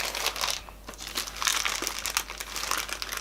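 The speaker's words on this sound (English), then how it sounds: "So it comes in a wee plastic sheath." Thin plastic sheath around an HP Pavilion 14-inch laptop crinkling as it is handled during unboxing, a close, steady rustle with a brief lull before it picks up again.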